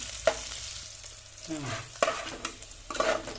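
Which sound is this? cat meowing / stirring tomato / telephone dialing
stirring tomato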